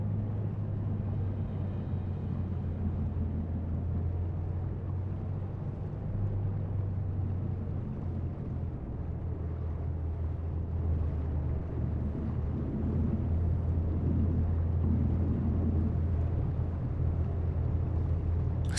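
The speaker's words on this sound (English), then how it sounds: "Can you hear the engine?" Continuous low ship engine rumble from the Seafarer ship simulator video game, a steady heavy drone that holds for the whole stretch at an even, loud level, with no speech over it.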